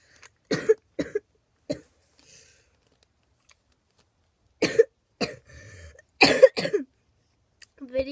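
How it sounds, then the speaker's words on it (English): A person coughs in several short, separate bursts, with quiet pauses between them and a brief rustle near the end. "Video is not for y'all to hear me coughing"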